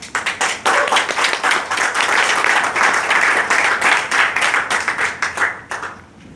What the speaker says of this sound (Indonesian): Boleh kita berikan aplaus yang meriah